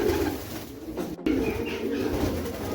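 Pigeons coo softly inside a racing-pigeon loft, low murmuring calls running steadily under faint background noise.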